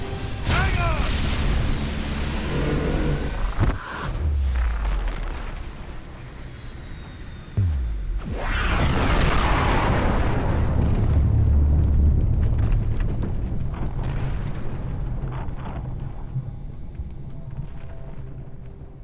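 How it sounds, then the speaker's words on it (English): A planet blows apart in Titanfall 2: low rumbling and mechanical clatter give way to a huge booming blast that rolls on as a long, heavy roar, with voices speaking over parts of it. "get off the planet before it explodes"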